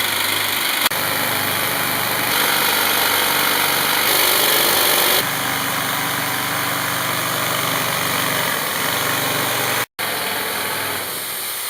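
Underground drill rig boring blast holes for a ramp shot in a mine, a loud continuous mechanical drone with steady high whine and shifting rumble for nearly twelve seconds, briefly cutting out near the end.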